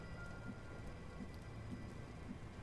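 A steady downpour in the video game XCOM 2 hisses evenly, with soft low thumps recurring about every half second beneath the constant rain.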